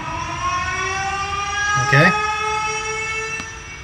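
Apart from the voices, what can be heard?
DJ sample siren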